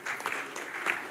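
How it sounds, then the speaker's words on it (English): A summit audience at a growth and employment gathering in Bhubaneswar claps in a brief, fairly faint burst of scattered applause. "Big round of applause for everybody."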